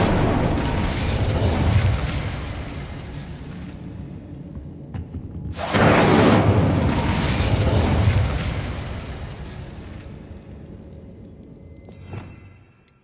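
Incendio fire spell bursts in the Hogwarts Legacy video game, a loud roaring whoosh that fades after a few seconds, then a second powerful fiery burst after a brief gap, trailing off into a smaller pop near the end.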